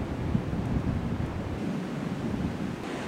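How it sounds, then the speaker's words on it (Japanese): Large ocean waves break and roar continuously on a beach near a coastal tunnel on the Fukumitsu coast in Shimane, Japan, a loud, dense wash of surf mixed with wind buffeting the microphone. "波音大きいです。"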